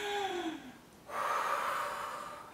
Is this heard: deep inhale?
yes